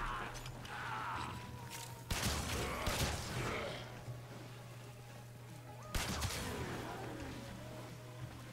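Gunfire in a video game: two sharp, loud blasts a few seconds apart, each trailing off into echoing rattle over a low steady hum.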